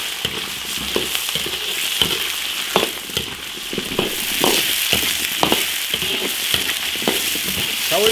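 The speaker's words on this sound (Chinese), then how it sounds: "现在把土豆先煮一下，香葱把土豆炒一下。" Potatoes and scallions stir-fried in an iron wok give a steady hiss of frying oil, broken by repeated scraping and clacking strokes of a spatula against the metal.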